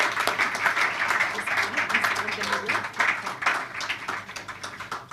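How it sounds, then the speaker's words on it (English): An audience at a film festival awards ceremony applauds in a steady, moderately loud round of clapping that carries through without a break. "I would like to give a round of applause"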